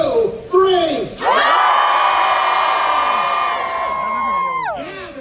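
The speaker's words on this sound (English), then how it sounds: "Can we scream loud enough that he hears us?" A crowd at the Knott's Scary Farm Halloween event screams together loudly after a brief shouted lead-in, one sustained collective yell lasting several seconds before fading.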